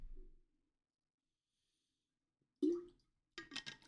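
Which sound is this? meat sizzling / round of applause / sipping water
sipping water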